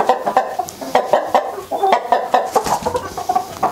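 Hens and a rooster cluck close by in a coop, a busy overlapping stream of short clucks and throaty calls without speech.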